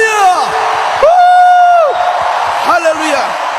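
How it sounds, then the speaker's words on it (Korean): A congregation at a youth revival rally shouts and whoops in welcome as a pastor comes out, loud drawn-out yells rising over crowd cheering, with a voice calling out among them. "목사님 나오실 때 다 같이 일어나서 우리 함성과 함께 맞이하겠습니다"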